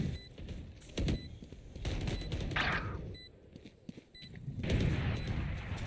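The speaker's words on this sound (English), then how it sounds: "Shotgun." Shotgun blasts in Valorant, a few separate heavy shots spaced through a few seconds amid game ambience and faint beeps, fairly quiet overall.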